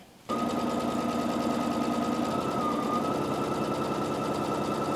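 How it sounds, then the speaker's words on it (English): A sewing machine stitches a fabric dress strap, starting abruptly and running as a steady close-up whir with a rapid rhythmic rattle and a constant hum. "So I'm going to go ahead and sew this using a 3/8 of an inch or 1 centimeter seam allowance"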